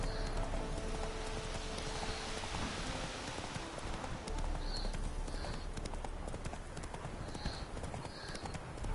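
Horse hooves gallop steadily in The Witcher 3, with a rhythmic clip-clop over a constant rain-like hiss and a few faint higher tones along the way.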